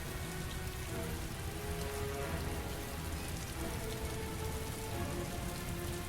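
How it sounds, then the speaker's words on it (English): Steady, heavy rain in a video game pours continuously, a dense hiss of drops on surfaces with no break and no voices. "Can't hear anything over the rain."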